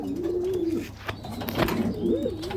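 Red checker racing pigeons, a male and female pair, coo close by in low, repeated throaty murmurs, with a few soft rustles between calls.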